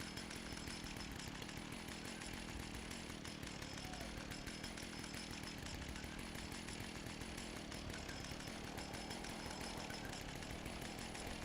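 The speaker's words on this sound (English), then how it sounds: "They hear my chainsaw though." A chainsaw in a survival video game runs steadily for the whole stretch, its buzzing motor droning loud and close with a dense, gritty whine and no pauses or voices.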